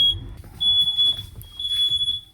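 A high, piercing train coach fire alarm tone sounds in pulses, loud and near, over a low rumble, with brief gaps between the beeps.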